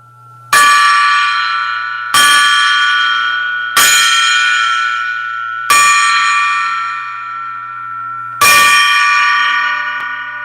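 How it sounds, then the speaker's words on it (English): A metal gong is struck five times at uneven intervals, each hit ringing out bright and loud before slowly fading. "It like keeps ringing for a long time after I hit it"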